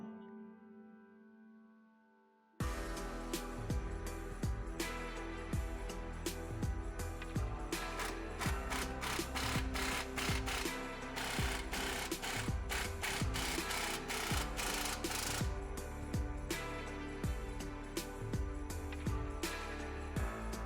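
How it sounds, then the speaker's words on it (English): Bolts of a ReadyLIFT track bar bracket being tightened onto a Ford F250 frame, with a rapid, loud, rattling power-tool buzz in repeated bursts close by after a quiet start, no talking. "tighten down the 3 side bolts and the 2 through the bottom."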